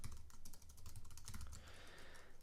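Quiet, steady typing on a computer keyboard while coding an iOS chat app, with dense rapid keystrokes running throughout and no voice over them.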